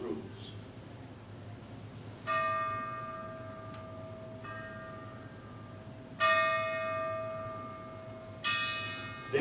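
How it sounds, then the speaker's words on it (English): A courthouse bell tolls the hour at seven o'clock in a small town, with three resonant strikes spaced a few seconds apart, each ringing out and slowly decaying. A low murmur of background sound sits under the tolls. "There's the bell in the courthouse, ringing out the hour, 7 o'clock in Rivers End."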